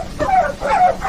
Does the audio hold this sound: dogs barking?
yes